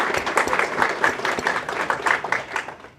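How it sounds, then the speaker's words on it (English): Audience applause after a startup app pitch at a breakfast pitch event, a steady wash of clapping from a room of people lasting the full few seconds and tapering slightly at the end. "Can we just give her another round of applause?"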